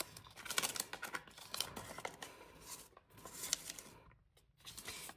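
A folded 50 euro banknote is handled up close, faint papery crinkles, rustles and small crisp snaps in irregular bursts with short pauses, no voices.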